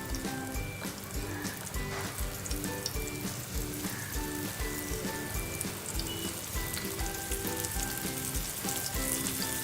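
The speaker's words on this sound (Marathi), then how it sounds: "चांगली दोन्ही बाजूने खरपूस भाजून घेणार आहोत त्याला" Slices of surmai fish coated in a rava and flour mix fry in a pan, giving a loud, continuous crackling sizzle with dense popping throughout and no voices.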